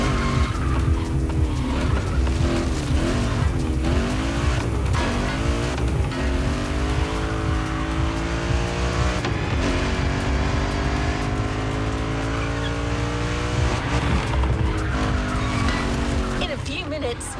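Car driving in The Crew Motorfest video game, with a loud continuous engine drone, rising and falling revs and repeated tire squeals and skids, under a steady narrating voice.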